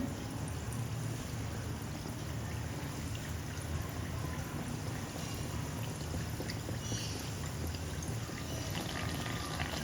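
Rice-flour anarsa fry in hot oil while oil is splashed over them with a slotted spoon, a loud, continuous close sizzle and bubbling hiss that stays steady throughout.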